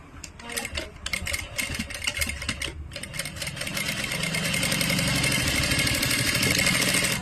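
A sewing machine stitches around a blouse neckline in a steady, close, mechanical whir that starts uneven and grows louder and more continuous as the run speeds up.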